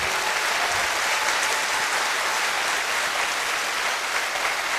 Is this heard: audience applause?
yes